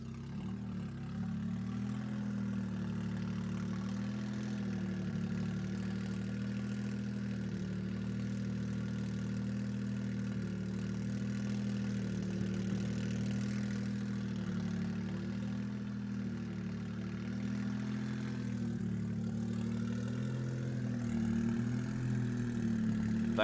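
A hillclimb race car idles steadily in the distance, a low, even engine drone with slight fluctuations and no revving, holding for over twenty seconds.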